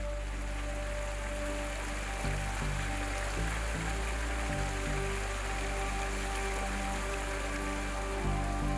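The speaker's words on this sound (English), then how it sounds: "A stream of hot sulfur springs joins the Tejuta River and forms a beautiful travertine waterfall on the way." Water from hot sulfur springs spills down a travertine waterfall into the Tejuta River gorge, a steady broadband splash heard at moderate distance, with a constant low drone underneath.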